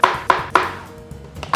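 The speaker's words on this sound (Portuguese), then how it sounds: "Picar ela sempre em rodelas," A knife chops a carrot into rounds on a cutting board, giving about six crisp, evenly spaced thunks close up with a short pause midway and no talking.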